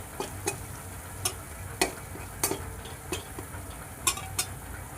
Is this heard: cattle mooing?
no